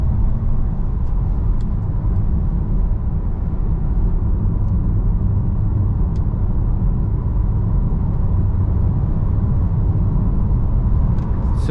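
A 2023 Nissan Qashqai e-POWER cruising at 100 km/h in sport mode at night: a steady, loud low rumble of road and drivetrain noise that fills the cabin continuously, with faint ticks on top.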